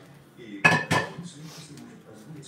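A utensil scrapes and knocks against a pan as slightly stuck cooked breakfast food is lifted off, giving two sharp metallic clanks followed by softer scraping, quiet overall.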